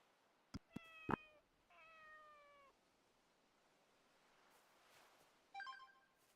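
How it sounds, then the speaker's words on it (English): A cat meows in the Inazuma Eleven Victory Road video game: a few quick ticks, then two clear meows close together, and a brighter, shorter meow a few seconds later over a faint, quiet background. "Oh, there's another cat."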